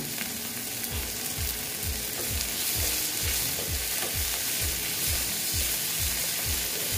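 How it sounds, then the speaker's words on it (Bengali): Chopped green chillies frying in a pan for an egg and okra dish, with a steady sizzle and a spatula scraping and stirring in a regular rhythm, close and fairly loud, with no talking. "দিয়ে আবার আমি এটা এরকমই ভেজে নিচ্ছি।"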